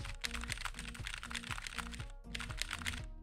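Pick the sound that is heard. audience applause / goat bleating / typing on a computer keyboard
typing on a computer keyboard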